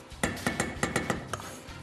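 A whisk clinks and scrapes against a pot while stirring a thickening milk sauce, giving several sharp metallic taps in an uneven rhythm, close and clear.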